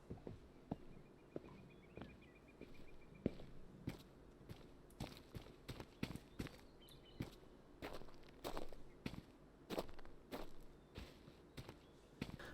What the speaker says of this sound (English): The footsteps make different sounds as you walk over different materials.